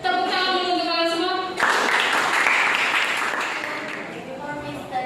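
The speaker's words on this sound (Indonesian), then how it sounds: "Tepuk tangan dulu untuk kalian semua." Students in a classroom clap together in a burst of applause, starting after a teacher's voice and fading gradually over several seconds, with dense close handclaps filling the room.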